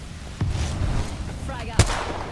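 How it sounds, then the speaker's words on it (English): Thermite grenade thrown in the Apex Legends video game: two sharp, booming bursts against a rumbling battle backdrop, with a voice faintly present. "Tossing thermite. Thermite down."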